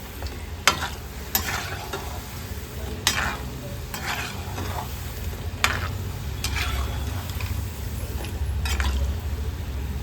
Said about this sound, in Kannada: ಕ್ರಿಸ್ಪಿಯಾಗಿ ಫ್ರೈ ಮಾಡಿಕೊಂಡ್ರೆ ಆಯಿತು.